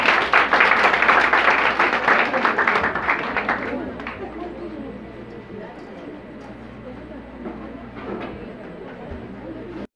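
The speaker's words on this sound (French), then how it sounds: "Vous les applaudissez, s'il vous plaît." Audience applause in a hall at a Jacmelitude cultural event, loud and dense at first, then thinning over a few seconds into scattered claps and murmuring.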